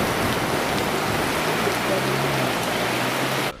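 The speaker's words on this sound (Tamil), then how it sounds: "இடியுடன் கூடிய கனமழை பெய்தது" Heavy summer rain in a Tamil Nadu thunderstorm with strong gusting winds, a dense, loud, unbroken roar of downpour that holds steady throughout and drops away abruptly at the very end.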